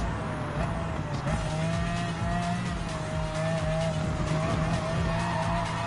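Gran Turismo 7 race, a Hyundai Genesis Group 3 race car: a steady, loud engine drone with a high whine, overlaid by repeated tire squeals and skidding as the car is pushed hard through corners.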